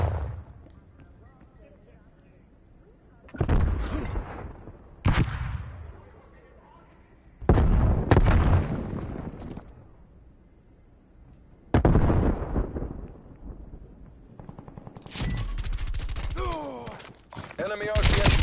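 In a PS4 shooter game, loud grenade blasts and bursts of gunfire come in separate heavy booms with quiet gaps between them, the last stretch crowded with rapid shots, and voices speak between the explosions.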